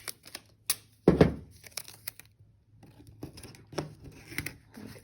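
Tape is handled and pressed in layers onto a paper craft instrument, with sporadic crinkling, tearing and tapping bursts, close and quiet, and a brief spoken word.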